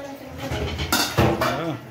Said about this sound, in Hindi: मम्मी बर्तन भी साफ कर रही है